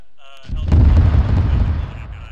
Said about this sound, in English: that is friendly U.S. artillery bombing the shit out of the military base